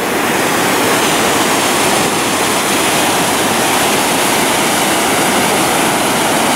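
Loud, unbroken roar of river rapids at Fällfors waterfall in Sweden, with rain-swollen water crashing into dense spray. The sound is close and steady throughout, and no one speaks.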